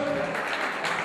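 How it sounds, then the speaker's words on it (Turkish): Audience at a concert and fundraising night claps briefly, a short burst of scattered applause with a few voices mixed in. "Alkışlıyoruz."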